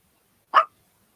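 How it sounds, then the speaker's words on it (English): A puppy gives a single short, sharp bark, close and clear, isolated against near silence. "that puppy sounds so cute"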